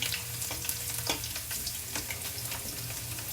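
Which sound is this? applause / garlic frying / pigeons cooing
garlic frying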